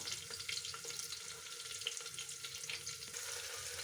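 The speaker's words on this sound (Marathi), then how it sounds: "लसूण भाजलाय आता आपण घालूया हा उभा चिरून घेतलेला कांदा" Sliced onion sizzles steadily in a pan of hot oil with roasted garlic, mustard seeds and bay leaf, a continuous close frying hiss with faint stirring clinks and no talking.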